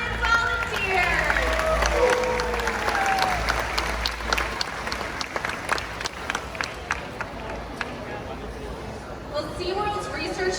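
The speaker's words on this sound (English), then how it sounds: "How about a round of applause for our audience volunteers?" Audience applause rings out at a SeaWorld killer whale show for the audience volunteers, a loud, sustained clatter of many hands over crowd noise and a sound system, fading slightly toward the end.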